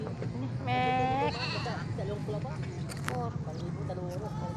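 Goats bleat at an outdoor livestock market in San Carlos City, Pangasinan: one loud wavering bleat near the start, then shorter calls, over a steady bustle of crowd voices and talk.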